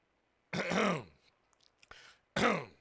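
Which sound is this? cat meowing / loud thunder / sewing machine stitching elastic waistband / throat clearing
throat clearing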